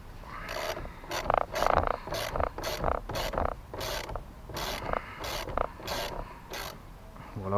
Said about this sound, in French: On va prendre l'embout de 13 pour dévisser celui-là.